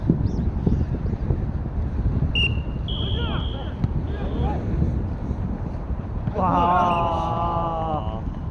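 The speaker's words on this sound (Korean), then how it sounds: "아이고 바람 불어" Strong wind blowing across an outdoor jokgu court during a tournament final in rain, a steady loud rumbling roar throughout, with people talking and shouting nearby.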